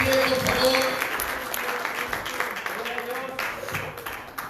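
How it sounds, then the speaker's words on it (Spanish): A church congregation applauds during a sermon, a moderate wash of clapping that rises and fades over a few seconds with voices mixed in. "Le dejamos el aplauso a Cristo."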